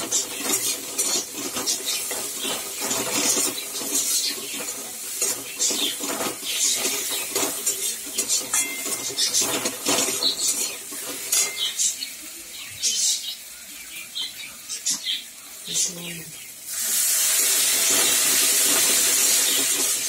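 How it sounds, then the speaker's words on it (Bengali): Meat masala being stirred and fried in a pan, with quick irregular scraping and clinking of a spoon against metal and a soft sizzle underneath, ending in a louder steady hiss of steam near the end. "মশলাটাকে ভালো করে কষছি"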